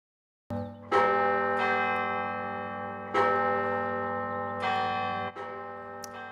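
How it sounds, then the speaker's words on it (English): Church bells of the Basilica of the Sacred Heart at Notre Dame ring in celebration, with several rich, sustained strikes a second or two apart that overlap and hum as they slowly fade, clear and fairly close with no talking. "The bells at the University of Notre Dame ringing in celebration of the new Pope"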